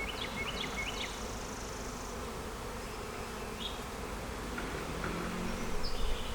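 Honey bees buzz steadily around an open hive, a dense, close, continuous hum with faint birdsong chirping in the background.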